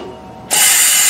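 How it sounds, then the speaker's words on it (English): Metal rope clamp crushed in a Ravenox bench-model rope clamp machine, a sudden loud mechanical press and grinding crunch that starts abruptly halfway and holds steady to the end. "it bends our rope clamp in"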